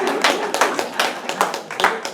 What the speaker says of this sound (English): Give a big round of applause for the squeegee guy.